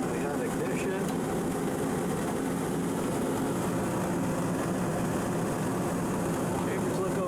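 A furnace exhaust fan runs steadily just after glow plug ignition, giving a continuous low broadband rumble and whir with no breaks, close and moderately loud throughout.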